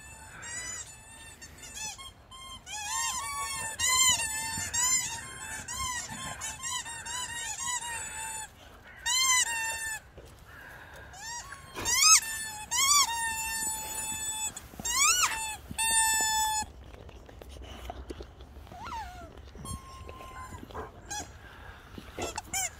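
Boxer dogs run about with a squeaky toy, producing rapid bursts of loud, high-pitched squeaks in quick series, broken by short pauses and occasional thuds nearby.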